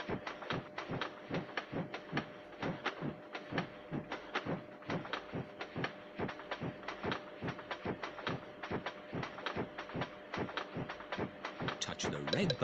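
Rhythmic mechanical chugging of a train in a Peppa Pig Theme Park mini game keeps a steady fast beat throughout, with a faint tonal hum beneath and no talking.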